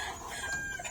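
Chickens and stag roosters at a Filipino yard with different owners, clucking and calling continuously, fairly close, over a steady outdoor background.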